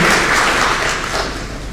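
Loud, close audience applause at a book launch, a thick, continuous roar of clapping that barely fades over its brief span.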